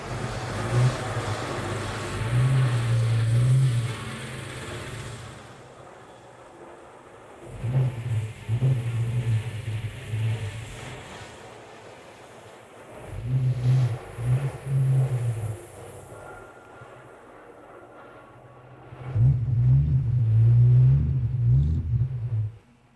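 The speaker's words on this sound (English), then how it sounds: "Listen to the engine roar." A car engine rumbles and revs in repeated loud bursts, with quieter gaps between surges, close by.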